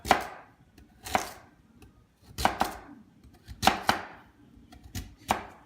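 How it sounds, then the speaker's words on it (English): Raw sweet potatoes are sliced with a knife on a board in a row of crisp, close chops, usually in pairs, with short pauses between them and no talk. "So I'm just going to start slicing these up."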